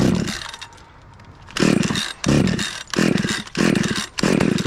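A cold gas chainsaw is pull-started repeatedly during maple tree removal. A faint lull gives way to four or five rhythmic, loud rasping pulls of the starter cord with sputtering engine bursts, and the saw never catches.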